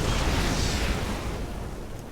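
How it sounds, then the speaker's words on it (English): A Yamato Cannon blast in a StarCraft 2 pro match between Serral and Maru, a single broad, roaring explosion that swells at once and slowly fades, heard without any talk. "Yamato Cannon"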